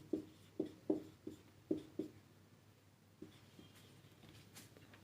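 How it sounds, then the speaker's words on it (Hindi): Chalk or a pen on a board during a physics lecture on gravitation makes a quick series of faint tapping strokes, followed by softer scratches in a quiet room. "सबसे पहले लिखेंगे"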